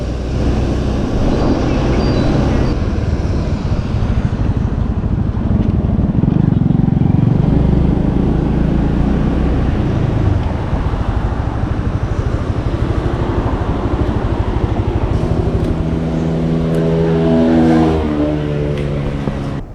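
Motorbikes and other traffic pass on a road in Vietnam near Ha Long in a loud, steady engine drone. Near the end a nearby engine climbs in pitch as a vehicle revs past.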